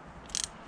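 A single short burst of ratchet clicks from a wrench being tightened, a quick close rattle of a few rapid clicks against quiet background.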